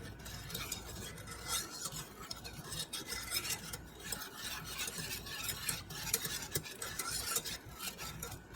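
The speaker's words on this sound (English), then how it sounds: "I'm going to give this a whisk." A whisk scrapes steadily around a bowl, beating milk with sugar and cornstarch for a vanilla sauce. The strokes are quick and continuous, fairly faint and close.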